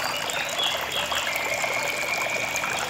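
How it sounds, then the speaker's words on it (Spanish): Decorative grotto fountain with water falling like rain, giving a steady, close hiss of splashing and trickling water that runs continuously without pause. "una nueva gruta con caída de agua en forma de lluvia"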